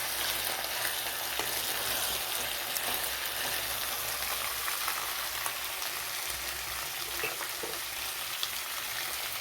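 Onions frying in a pan for a chicken and cauliflower curry, a steady close sizzle and crackle that runs unbroken throughout with faint stirring, and no talking.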